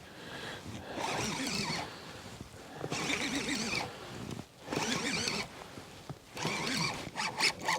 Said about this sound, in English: Just pulling out drag there in the rod holder.